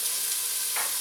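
About a cup of finely chopped onion frying in a pan for mac and cheese with Hatch chilis: a steady, close sizzling hiss that swells briefly near the end, with no voices.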